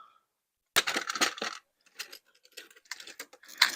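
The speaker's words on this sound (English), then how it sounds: "So now I am searching out my little lock washers" Small metal lock washers from a cheap 240-piece hardware set being rummaged in a box, producing close bursts of tinkling, jingling clinks separated by short pauses.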